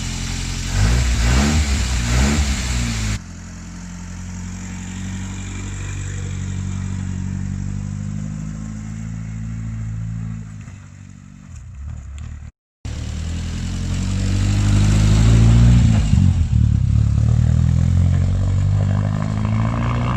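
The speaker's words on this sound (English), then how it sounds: "we finally got to drive my dad's Austin up and down the drive" An Austin car engine driving up and down a driveway, a steady mid-pitched hum that swells as the car accelerates, dips briefly, then returns louder and rougher near the end.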